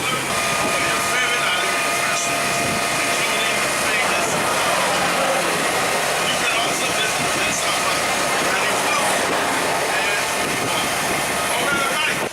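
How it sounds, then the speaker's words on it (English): A continuous rumbling tram ride to Serenity Bay on Castaway Cay, with steady engine and road noise throughout, loud and unbroken, with voices faintly mixed in. "about to get on the tram for Serenity Bay"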